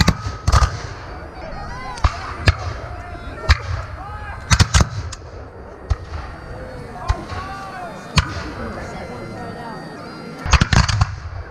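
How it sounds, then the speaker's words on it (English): Volley of black powder muskets and rifles firing blanks at a War of 1812 reenactment: repeated sharp, loud cracks, some nearly together and others scattered across the clip, over a busy outdoor background with crowd chatter. "That was a good volley."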